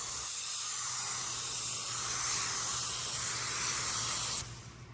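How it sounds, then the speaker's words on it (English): A paint spray gun sprays paint with the fluid valve fully open, giving a loud, steady broadband hiss that runs unbroken for several seconds and then drops off sharply near the end. "I can still spray it without running it because I'm going to speed up"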